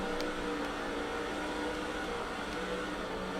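A NASCAR 06 race car engine in a Cup Series race at IRP drones steadily and loud throughout, a dense continuous roar with no clear rev change and no speech over it.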